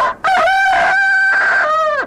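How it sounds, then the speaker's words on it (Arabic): A rooster crows once, loud and close, with a single long, strained cock-a-doodle-doo that rises, holds and drops off at the finish, in a scene from an Egyptian TV comedy. "ده الديك يا مولاي."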